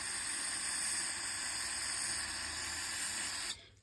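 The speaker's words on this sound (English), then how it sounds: "Go ahead and spray up in here." A steady, loud aerosol spray of cleaner into a weed eater carburetor hisses continuously for several seconds, then cuts off abruptly.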